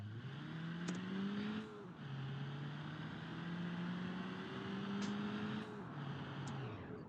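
A Ford S-Max in a crash test video game accelerates hard, its engine tone climbing steadily, dropping at each gear shift, then climbing again, loud and close with no voices.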